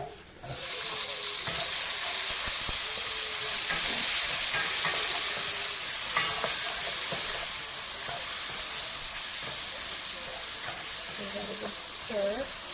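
Tomatoes fry in a pan with a loud, continuous hissing sizzle that starts abruptly and carries on close to the listener, with occasional stirring clatter and a voice talking faintly underneath.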